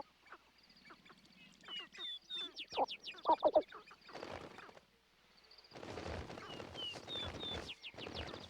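Sharp-tailed grouse give clucking, cooing and cackling calls at a dawn lek, with rapid rattling bursts, while small birds chirp in the background.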